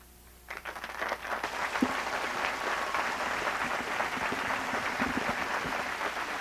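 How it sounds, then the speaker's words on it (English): A large graduation crowd of thousands applauds the university president at the close of an outdoor commencement ceremony, starting at once and holding as a dense, steady wash of clapping. "applauding Cornell President Frank H.G. Rhodes."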